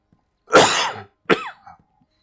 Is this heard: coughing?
yes